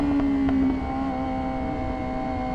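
A 2026 Yamaha R7 motorcycle pulls hard, its engine giving a steady buzzing tone that dips slightly after the first moment and carries on under rushing wind noise, close and moderately loud.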